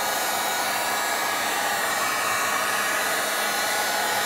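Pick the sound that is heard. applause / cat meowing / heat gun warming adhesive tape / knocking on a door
heat gun warming adhesive tape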